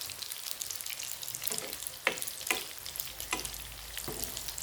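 A bitter gourd omelette (tortang ampalaya) fries in a pan, browning underneath, with a steady close-up sizzle broken by a few soft scrapes and taps of a utensil.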